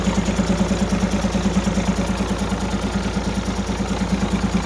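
Hino P11C diesel engine running at idle after starting, a steady smooth rhythmic low thrum with regular pulsing, close and continuous throughout.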